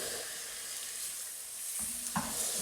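Garlic and tomatoes for Portuguese-style braised peas with chouriço sizzle in a pan, a steady bright hiss that swells briefly as food is dropped in and stirred near the end.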